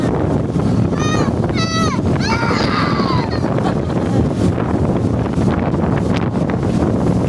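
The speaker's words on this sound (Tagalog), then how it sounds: "It's windy?" Strong wind roaring and buffeting the microphone constantly during a speed boat ride on open water, loud and close, with excited voices and shouts briefly over it.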